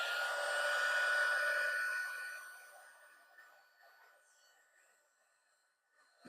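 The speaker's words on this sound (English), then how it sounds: "I just ran the heat gun on it again" A heat gun blows a steady whooshing hiss while re-heating embossing powder on a card, loud at first, then fading as it is switched off, ending in a small clatter.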